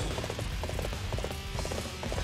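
Rhythmic clip-clop of horse hooves galloping in Dynasty Warriors 8 Empires, a steady brisk beat close up over a busy game battle background.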